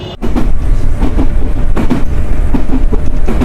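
Inside a moving train from Kerala to Delhi, a loud, constant rumble with rhythmic clickety-clack from the wheels fills the carriage, with no talk.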